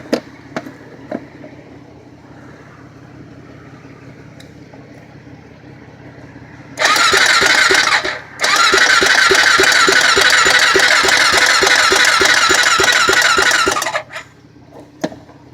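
A Honda 400EX ATV engine turns over and fires, roaring loudly for several seconds with a brief dip before settling back to a rapid, close, rattling run, after quieter clicks and a low background hum.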